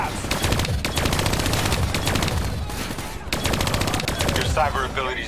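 Continuous heavy automatic gunfire from the Call of Duty Black Ops 3 campaign, dense and loud with hardly a pause, and a voice giving instructions over it.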